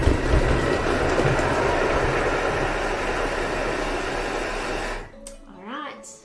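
A Thermomix chops at speed 5 with a loud, steady motor whir for about five seconds, running slightly slower with its bowl still hot, then cuts off and a voice briefly speaks.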